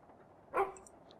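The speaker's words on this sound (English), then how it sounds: "Good doggy." A single short dog bark from a dog character in the video game Gemini Rue, one brief mid-range yelp standing out over quiet ambient background.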